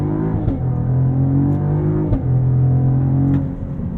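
A 2023 Cadillac CT4-V Blackwing engine holds a deep, steady drone with harmonic hum below 2,000 rpm, brake held and throttle pinned, interrupted by brief clicks before a launch to 60 mph.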